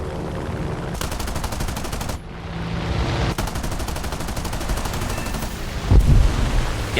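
Aircraft machine guns fire in long rattling bursts as AI warplanes are shot down in a flight combat game, two sustained strafing runs split by a short pause, with a heavier thump near the end.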